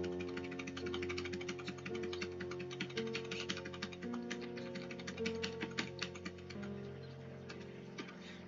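Steady key taps on a computer keyboard, typing dots in a word processor, close and fairly quiet over a constant electrical hum.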